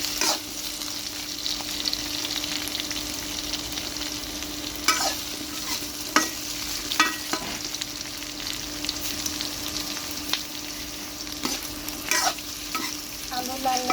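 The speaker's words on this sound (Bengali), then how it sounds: "আলু আবার মেরে দেবো আমি একটু পরপর আলু মেরে দিতে হবে" Potatoes fry in a pan with a steady low sizzle, while a utensil stirs them in scattered scraping clacks throughout, close and fairly quiet with no talking.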